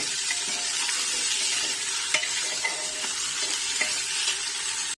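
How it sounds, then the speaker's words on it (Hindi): Mutton sizzles steadily in a hot pan for curry, a dense close hiss with a few soft scrapes and clicks as it is stirred, and no talking. "गोश्त को हमें थोड़ा सा भुनना है जब तक इसका कलर थोड़ा सा चेंज हो जाए।"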